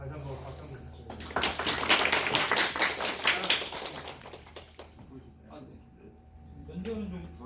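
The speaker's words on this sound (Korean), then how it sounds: "다시 한번 박수 한번 부탁드립니다." An audience applauds after a final presentation for a future-car mobility design and build project. Moderate clapping builds over roughly three seconds and then fades, and a voice talks afterward.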